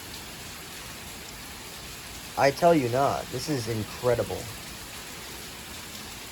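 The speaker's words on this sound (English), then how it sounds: "we got some wind, we got some heavy rain, and all that." Heavy rain pours steadily through a gusty windstorm, a constant loud hiss throughout, while someone speaks excitedly in the middle.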